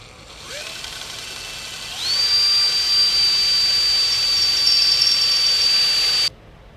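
A drill bores into a Les Paul Junior guitar body, starting with a brief spin-up before biting in and holding a loud, steady high-pitched whine for about four seconds, then cutting off abruptly.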